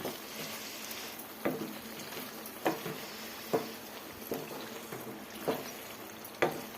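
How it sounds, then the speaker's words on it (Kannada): Onion chutney frying in oil in a pan, a quiet, steady sizzle punctuated by regular soft stirring knocks about once a second. "ಆಯಿಲಲ್ಲೇ ಸ್ವಲ್ಪ ಒಂದು 10 ನಿಮಿಷದವರೆಗೂ ನಾವು ಫ್ರೈ ಮಾಡ್ಕೊಬೇಕು ಈ ಚಟ್ನಿನ"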